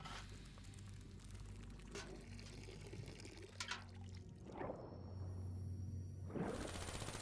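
In Black Ops 3's Zetsubou no Shima, a planted seed is watered, giving a soft pouring, trickling splash of liquid over a quiet game background, swelling into a fuller gush near the end.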